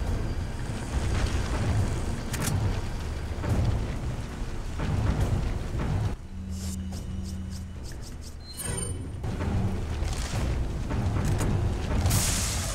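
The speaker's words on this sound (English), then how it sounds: "I'm gonna use the rocket launcher." Rocket launcher blasts and explosions in the Resident Evil 4 finale, heavy booming low rumble sustained across the clip with a brief quieter gap midway before the loud blasts resume.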